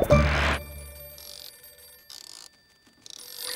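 Telephone ringing in a children's cartoon, bright electronic trill bursts repeating in a steady ring pattern with short gaps, after an opening burst of louder sound.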